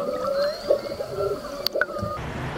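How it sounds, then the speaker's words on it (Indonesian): A humpback whale call from a toy figure sound effect, a long wavering moan with rising and falling tones, brief squelchy bursts, close and fairly loud with no speech. "Wow, lihat di sini ada humpback whale."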